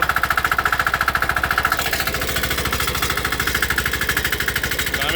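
A 186F diesel engine on a small tractor pulls a load of dirt at low idle, giving a loud, steady, rapid thumping chug with a regular knocking beat throughout.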